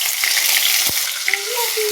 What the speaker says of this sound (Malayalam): നന്നായിട്ട് വഴറ്റാം.